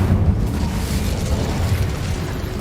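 A Hogwarts Legacy fire spell, Incendio, bursts as a deep, rumbling whoosh that holds loud and full for a couple of seconds before easing slightly.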